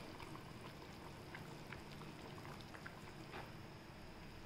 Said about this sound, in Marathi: हे पाणी उकळते आपण ह्याच्यात टाकूया.